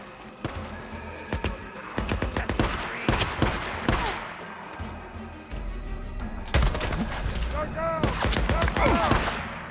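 Gunfire in the zombie video game Days Gone, rapid bursts of shots in two clusters mixed with horse whinnies and hoofbeats, loud and close with game sounds throughout.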